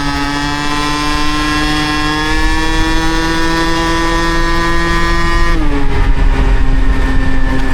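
An Aprilia SR 70cc scooter with an Athena kit and Hebo exhaust runs with a loud, buzzy two-stroke drone that holds steady at low to mid revs, then drops in pitch as the throttle changes.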